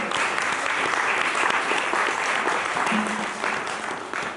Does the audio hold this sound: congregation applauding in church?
yes